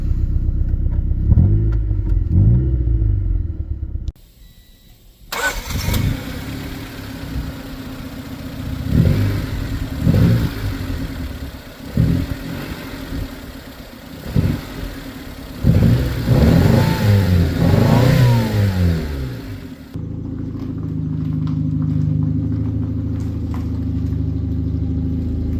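A 1995 Honda car engine cranks briefly, catches and starts, then revs in a series of loud, rising and falling bursts before settling into a steady idle.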